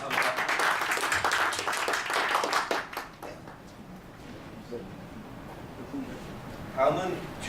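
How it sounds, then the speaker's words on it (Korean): A seminar audience at a Korean policy forum gives a burst of applause that lasts about three seconds, then stops abruptly, leaving a quiet hall with brief murmurs and rustling. "다시 한번 후원에 감사드리면서 큰 박수 부탁드리겠습니다"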